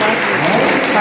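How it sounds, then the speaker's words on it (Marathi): Dense applause from an audience at a school celebration for students and teachers, loud and continuous for a moment, with no pauses. "त्यांच्यासाठी जोरदार टाळ्या"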